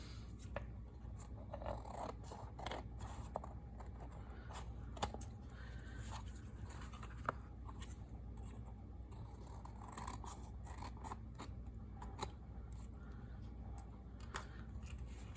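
Scissors snipping away excess craft material, a series of soft irregular cuts and rustles close by, quiet and without talk.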